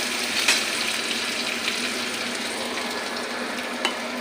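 Chopped garlic pieces dropped into hot oil in a frying pan set up a steady, even sizzle with faint crackles and a couple of small pops, close and continuous with no talking.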